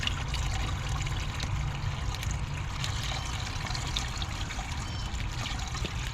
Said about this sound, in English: We pour it through our pre-filter.